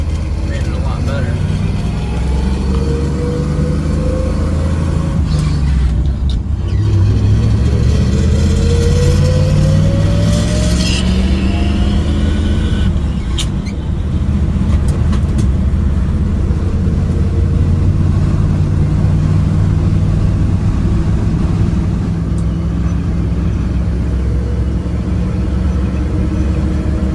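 A 1960 Chevrolet C10 pickup with a 350 engine driving down a road, heard from inside the cab as a steady low engine drone with gentle rises through gear changes, under ongoing talk and faint music.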